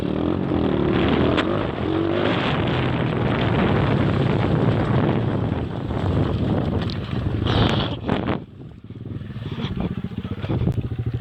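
Riding a 2008 YCF 125 R-Star pit bike, its engine droning steadily up close under heavy wind buffeting, with a brief drop and rise in revs near the end; no talking.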